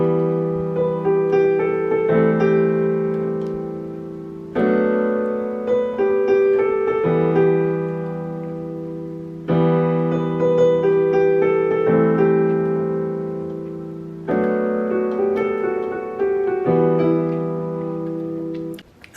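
Solo piano plays a right-hand pop melody over sustained chords, in phrases of about 2.5 seconds that start fresh every few seconds, close and steady with no voices.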